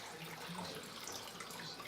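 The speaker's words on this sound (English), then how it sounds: "I'm going to put a little more water in, okay?" Faint, steady water from a kitchen tap runs into a cooking pot for a smothered cube steak dish, a soft continuous splashing hiss with no talking.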